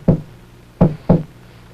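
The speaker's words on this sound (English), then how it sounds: "Knock on the dressing room door." Three firm knocks on a dressing room door in a vintage television puppet show, one knock followed after a pause by two closer together, sharp and near in a quiet room.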